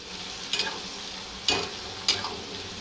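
Chopped onion fries in oil in a pan for a masala sevai breakfast, a steady soft sizzle with three brisk scrapes of a spoon stirring through it.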